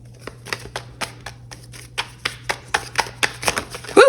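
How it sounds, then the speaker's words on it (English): A deck of tarot cards is shuffled by hand in a quiet room, giving a string of short, crisp riffling bursts at an uneven rhythm against a low steady hum. "Spirit's telling me just to shuffle like this"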